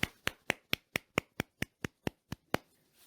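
During an Easter Sunday church service, about a dozen crisp, evenly spaced claps sound in a steady rhythm close to the microphone, then stop, leaving near silence.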